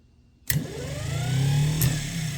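A 6-volt starter cranks the engine of a 1948 Willys Overland truck, kicking in abruptly and holding a steady loud mechanical whir with a brief click partway through.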